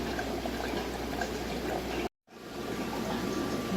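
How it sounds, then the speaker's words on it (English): Water draining from aquarium fish tanks in a home fishroom, a steady close liquid rush that cuts out briefly midway and then resumes just as strongly. "let's go ahead and we'll start draining a few tanks"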